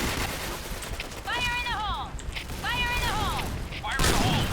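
Gunfire from a Beretta and a sniper rifle rings out in the shooter game Point Blank, with sharp bursts over a busy background and voices in between.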